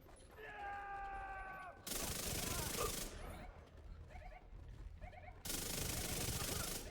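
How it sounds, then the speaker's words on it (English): Bursts of SMG fire in The Division 2, with rapid broadband volleys at about two and five seconds and short clattering pops in between, heard alongside a brief tonal whine near the start and under occasional talk. "Snipe him with an SMG."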